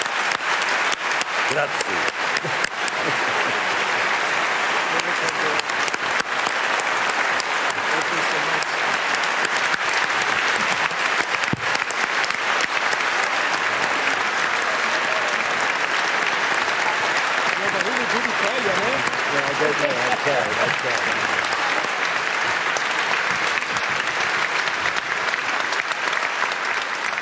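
Sustained applause from a large parliamentary audience in Rome rises to a standing ovation for the speaker at the close of his address, dense and steady throughout, with a brief spoken word of thanks near the start.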